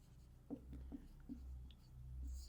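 Pen on paper while solving a geometry problem, faint and close, with a few short scratchy strokes and taps in an irregular rhythm.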